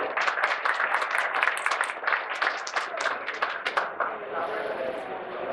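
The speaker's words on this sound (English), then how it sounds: "Can we say a nice round of applause for our moderator?" A room of people at a Chicago Chinatown candidate forum gives the moderator a round of applause. Dense hand clapping rises quickly and stays strong, then thins out toward the end.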